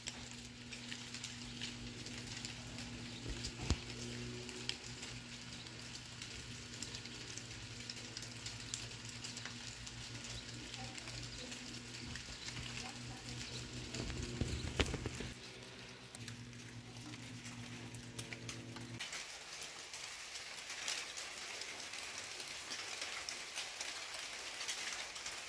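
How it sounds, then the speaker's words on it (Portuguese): Light rain beginning to fall outdoors, a faint, steady patter of scattered drops under a low hum that stops partway through, leaving just the soft rain hiss. "começou a dar uns pinguinhos aqui"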